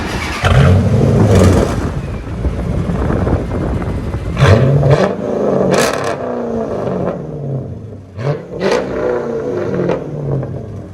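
A 2006 Chrysler 300C Hemi with dual straight-pipe exhaust and 4-inch tips idles roughly, then fires off several sharp, loud revs that bark up and drop back, two quick blips near the end.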